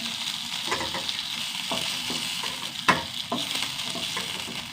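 Fish crisping in a pan with very little oil, giving a soft continuous sizzle broken by a few sharp clicks and pops as pieces are turned, with no one speaking.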